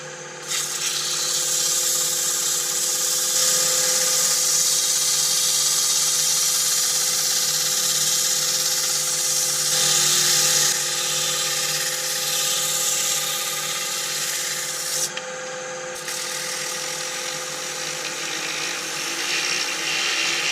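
A constant high whirring drone from a woodturning lathe spinning a turned hollow form while it is hand-sanded with 240 grit paper, steady and loud throughout with a slight dip in tone near the end.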